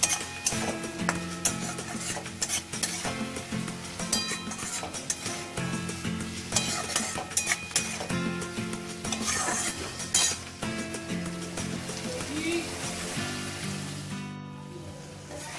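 Spice paste for katla fish curry being stir-fried in a pan, a continuous sizzle with repeated scraping and clinking of a metal spoon against the pan, fairly close and steady.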